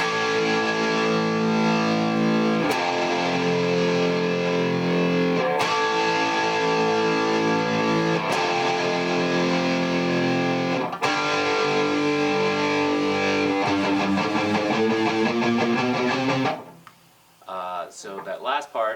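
Distorted electric guitar strums power chords in a rock solo section, dense and loud with repeated rhythmic attacks for most of the passage before dropping off near the end.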